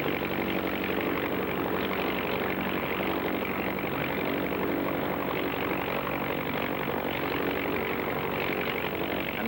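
Milo Burcham's Boeing pursuit plane performing at the National Air Races gives a steady, loud propeller-engine drone that holds without pause for the whole stretch, with no voices over it.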